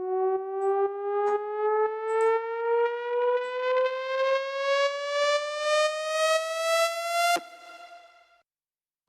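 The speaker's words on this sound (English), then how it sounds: "We hear the sound with the rising pitch." A synthesized riser made with Ableton Live's Operator synth, a bright tone that climbs steadily in pitch with a pulsing, wobbling rhythm, loud and alone, cutting off abruptly near the end.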